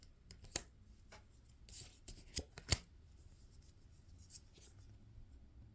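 Tarot cards being shuffled, soft papery riffles and a few sharper snaps at a quiet level, scattered irregularly with no talking.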